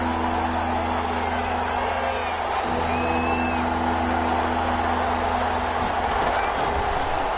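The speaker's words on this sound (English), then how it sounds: "Here comes a big one as this crowd gets out making some noise" A football stadium crowd roars steadily on third and short, a dense, continuous wash of distant cheering and yelling that holds at a loud level throughout.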